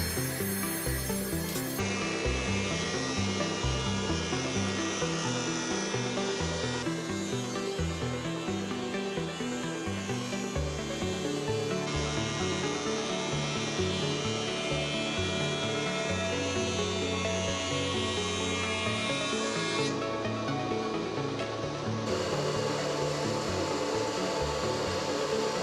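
A wood molding machine runs custom trim through its final pass with a continuous loud mechanical drone and steady cutting whine, close and unbroken, its tone shifting slightly as the stock feeds through.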